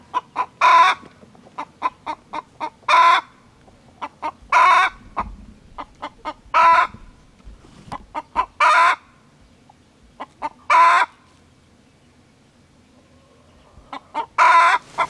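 Chickens on a farm paddock cluck and crow in loud, close bursts, one call after another with short quiet gaps between them and no talking.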